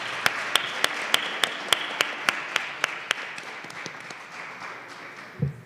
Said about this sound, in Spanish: Un aplauso de bienvenida para nuestros invitados.